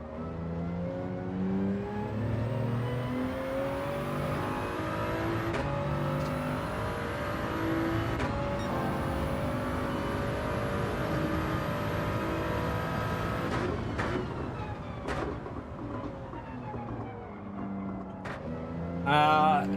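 Car engine revving out through the gears in Gran Turismo 7 during manufacturer testing, a loud steady whine rising and shifting pitch several times, with brief tyre or gear transients near the end.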